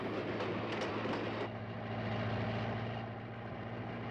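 A train rumbles past close by, a steady heavy roar with low engine drone and rattling, no voices over it.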